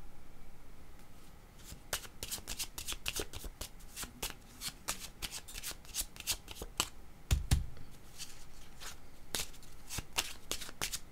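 Tarot cards are shuffled close up, a long, irregular run of crisp riffling snaps and flicks over faint background hiss, with no talking.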